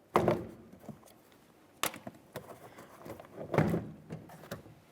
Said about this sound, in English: Once I'm in there, I'll gently separate the door panel from the door.